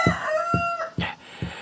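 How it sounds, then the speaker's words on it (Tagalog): Hungry chickens at a home cluck and crow together, with a sustained rooster-like crow rising over four regular, evenly spaced low thumps or clucks. The sound is fairly close and moderately loud, with no talking. "mga gutom lang siguro mga manok ko"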